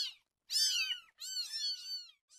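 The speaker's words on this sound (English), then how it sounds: "I got him a kitten." A kitten meows repeatedly, several high, wavering cries at close range with short pauses between them, and no other sound.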